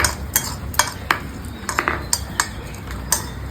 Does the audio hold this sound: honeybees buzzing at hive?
no